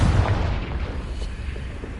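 A Confringo fire spell bursts in Hogwarts Legacy, a dense booming explosion that rumbles loudly and fills the moment without voices.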